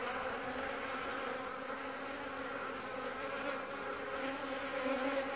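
A swarm of honey bees crowds around a rejected queen bee, making a steady, dense buzzing hum that holds evenly throughout with no talking.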